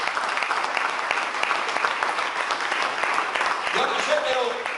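A church congregation bursts into steady, dense applause that holds for several seconds, loud and full, with voices mixed in under the clapping.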